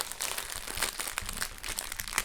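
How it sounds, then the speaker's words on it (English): Close, fidgety crinkling of plastic packaging while unboxing a diamond painting kit, crisp bursts of crackle that come and go over a few seconds, quiet and without talk. "Sorry for the crinkling if you're listening on headphones"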